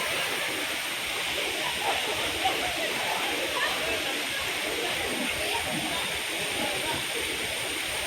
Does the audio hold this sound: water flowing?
yes